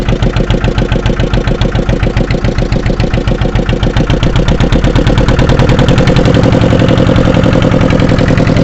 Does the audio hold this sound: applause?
no